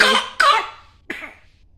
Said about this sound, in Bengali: জ্বর ঠিক হয়ে গেছে, এখন একটু কাশি হচ্ছে।